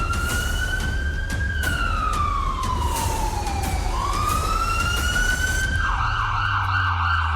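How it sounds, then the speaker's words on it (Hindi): A loud wailing air raid warning siren in Chandigarh sweeps slowly down and back up in pitch, then shifts into a rapid warbling tone, continuous and prominent. "चंडीगढ़ में फिर सायरन बजा।"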